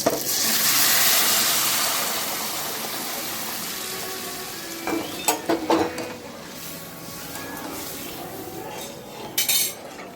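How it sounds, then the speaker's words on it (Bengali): Boiled lentils are poured slowly into a pan of hot spice tempering for mango dal, setting off a loud hissing sizzle that gradually fades, followed by bursts of a spoon clattering against the pan. "সিদ্ধ করে রাখা ডালটা এখানে আস্তে আস্তে আমি ঢেলে দিচ্ছি"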